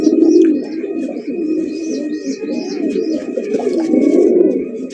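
Gola pigeons, an old domestic breed kept on a farm, coo in deep, continuous rolling murmurs close by, with several birds overlapping and faint higher chirps scattered above.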